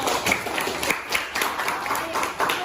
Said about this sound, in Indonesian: Semangat dulu, tepuk tangan dulu.